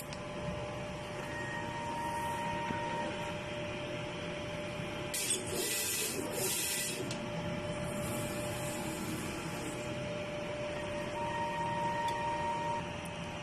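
A printer running a nozzle check, a low mechanical hum with faint steady tones, broken by a louder burst of spraying, whirring printhead motion in the middle, then settling back to the quiet hum.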